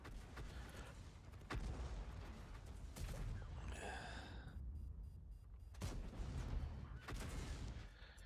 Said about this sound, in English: That was an HE round that I fired at the low because I thought I was going to be shooting at somebody's turret